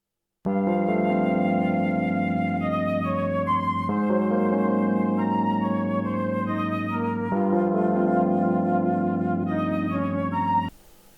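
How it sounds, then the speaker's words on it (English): Two sampled orchestral flutes, one from SRX Orchestra and one from Sonatina Orchestra, carry a sustained melody in layered sustained phrases over about ten seconds, loud and steady, then cut off abruptly. "I then decided to add flutes so that they can play as the melody"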